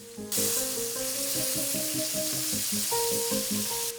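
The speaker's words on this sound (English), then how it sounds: "being able to flip it over and put it somewhere that's still really, really hot helps you with your searing" Steaks searing in a very hot pan, a loud continuous close-up sizzle and crackle that starts suddenly and holds steady, with faint musical tones underneath.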